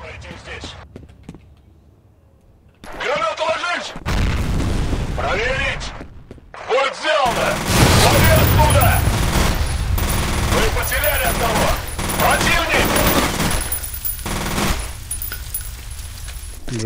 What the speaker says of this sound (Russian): Сейчас тут начнется стрельба.